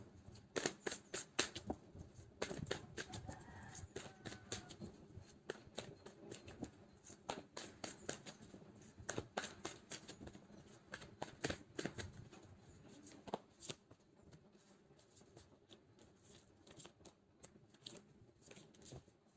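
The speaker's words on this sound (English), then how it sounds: "So let's pull some cards from universe where this connection is headed on." Tarot cards are shuffled by hand in quick, soft riffling bursts, with crisp flutters and taps repeating over about twenty seconds, close and quiet with no talking.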